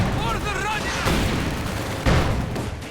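Gunfire and explosions from a Company of Heroes 2 one-versus-one match, with dense rattling shots and booming impacts blending into a loud, continuous battle din under a commentator's voice.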